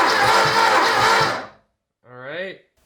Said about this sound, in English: crank for 5 seconds